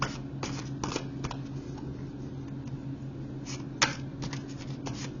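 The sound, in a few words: shuffling tarot cards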